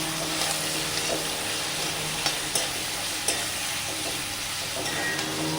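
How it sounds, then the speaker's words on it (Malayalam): Onion, ginger-garlic paste, curry leaves and chilli fry in oil for a beef roast, making a dense, even sizzle with occasional soft knocks of a spoon stirring against the pan. Close and constant, with no voices. "അതെല്ലാം ഇട്ട് കൊടുത്തു ഇനി നമുക്കത് നല്ലോണം ഇളക്കി കൊടുക്കാം"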